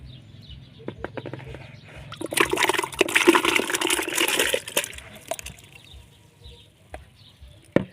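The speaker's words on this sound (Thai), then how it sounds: "เรียบร้อยแล้วจะเอาลงน้ำปูนใสเลยนะคะ" Tamarind pieces slide into a container of limewater, making a splashing, pouring rush of liquid in the middle of the clip, with softer drips and small knocks before and after.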